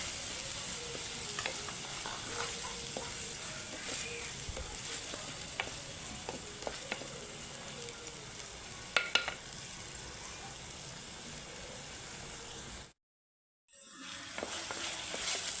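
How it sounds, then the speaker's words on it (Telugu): Chopped tomatoes fry with onion paste in a pan, giving a long, steady, quiet sizzle broken by occasional stirring clinks. Near the end the sound drops out for about a second, then resumes. No voices. "ఉల్లిపాయ ముద్ద అయితే వేగిపోయిందండి. ఇప్పుడు మనం టమాటాకాయలు అయితే యాడ్ చేసుకుందామండి."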